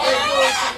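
Chickens clucking close by: a short, loud burst of bright, overlapping calls, loud throughout and trailing off slightly at the end, with no talking.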